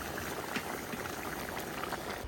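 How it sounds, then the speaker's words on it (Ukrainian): Meat boils vigorously in a kazan for plov, a loud, dense, continuous bubbling and popping with no voices over it. "Кипіння."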